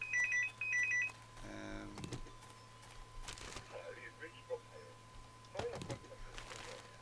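A telephone rings at the start in two quick electronic trills, faint and thin, followed by clicks and someone speaking quietly.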